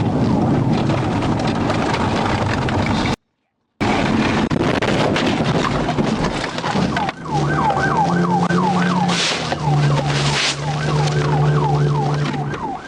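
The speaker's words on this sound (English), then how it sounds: "Trooper Williams quickly activated his lights and sirens," A trooper's police car siren wails during a pursuit, rising and falling in a fast repeating yelp over road and engine noise, loud and close, after a brief gap of silence.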